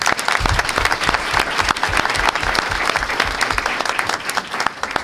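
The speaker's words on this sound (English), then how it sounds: "But let's give them a round of applause." Sustained applause from an audience at a school board meeting, honouring a school team, steady dense clapping throughout with a few louder claps standing out.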